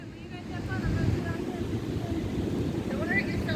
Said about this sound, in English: I hear the wind.